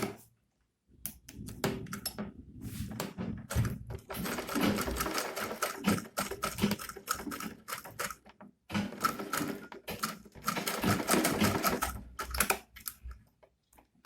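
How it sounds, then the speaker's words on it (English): A sewing machine runs a stitch on a handbag in quick mechanical bursts, a rapid close clatter stopping and starting several times with brief pauses between runs. "I'll take it to the sewing machine and I will run a stitch."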